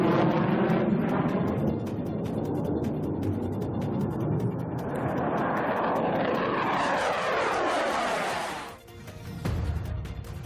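Rafale fighter jets fly combat air patrol in the skies over Leh, Ladakh. A loud, roaring engine sweeps past overhead, rising and then fading sharply as the aircraft moves away.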